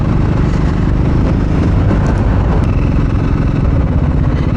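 Triumph Scrambler 400X motorcycle ridden on the road in 2024, a steady loud broadband engine and wind roar with low rumble, continuous throughout with no talk.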